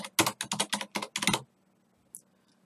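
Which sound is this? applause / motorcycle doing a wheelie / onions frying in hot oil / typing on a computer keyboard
typing on a computer keyboard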